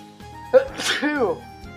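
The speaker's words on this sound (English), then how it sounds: "I need to sneeze" A single sneeze from a person indoors, a sharp burst rising out of quiet room tone with a steady low hum underneath, close and moderately loud.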